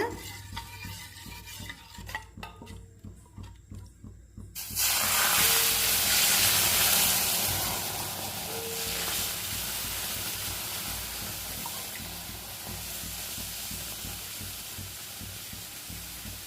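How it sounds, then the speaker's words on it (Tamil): Rava dosa batter is poured onto a hot griddle for a crispy restaurant-style dosa, and a loud, steady sizzle and hiss begin after a few seconds of quieter clatter and continue close and unbroken to the end. "நம்ம இப்போ அடுத்த தோசை ஊற்ற ஆரம்பிக்கலாம்."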